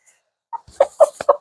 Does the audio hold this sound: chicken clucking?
yes